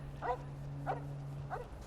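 Three short dog barks, evenly spaced about half a second apart, ring out over a steady low electrical hum in the video game Fallout: New Vegas.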